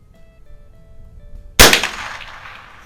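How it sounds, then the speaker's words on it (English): A single sharp report from a Remington Fieldmaster 572 pump-action .22 LR rifle fired at 25 yards, a loud close crack with a short ringing decay after a quiet lead-in. "I'm just shooting at 25 yards here."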